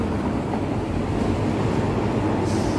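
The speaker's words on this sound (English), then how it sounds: "Ayan ang tram." A tram passing on a city street, a steady broadband rumble and roar filling the whole moment with no break.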